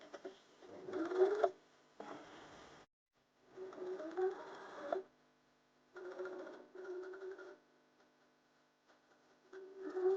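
A sewing machine stitches a fabric pouch in several short bursts with pauses between, the motor whirring at moderate volume nearby with no talking.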